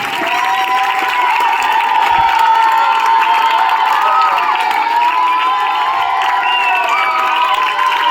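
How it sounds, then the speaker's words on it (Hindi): Loud, sustained cheering and shouting from a crowd of children at a school farewell ceremony, a continuous roar with whoops and clapping mixed in. "ताली बजाइए।"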